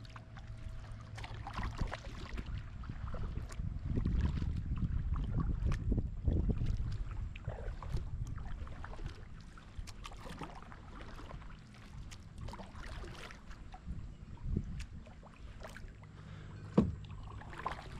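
A Vibe Shearwater 125 kayak glides across open water with soft splashes and lapping, a few fuller swells of water noise, and light wind rumble on the microphone.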